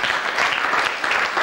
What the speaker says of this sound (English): Give her a nice round of applause, Melanie, as she comes over.